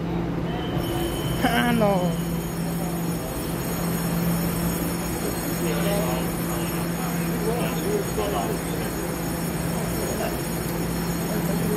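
A silver-green EMU900 electric multiple unit, a ten-car 'Smile' train, departs Miaoli station, its steady electric hum and rail rumble continuing throughout with a brief squeal near the start, while people talk over it.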